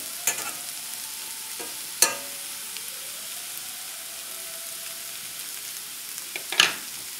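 Lyonnaise potatoes with onions sizzle quietly in a frying pan, with a few sharp scraping clatters as the pan is tossed and stirred over a low, continuous frying hiss.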